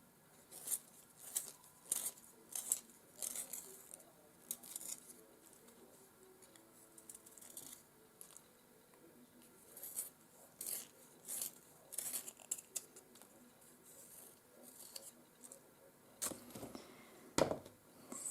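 A light gray pastel pencil being sharpened, with faint, uneven scratchy scraping strokes that come in short bursts close by over a quiet background, no talking.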